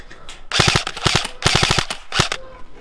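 Airsoft guns fire in quick bursts during a winter outdoor game, with three loud, close volleys of rapid snapping shots separated by short pauses.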